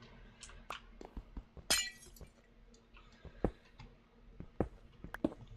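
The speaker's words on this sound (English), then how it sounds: "Get rid of these glass panes now." Glass panes shatter in the Minecraft video game, a quick series of sharp breaking clinks with one bright crash early and more scattered breaks following, fairly quiet and without talk.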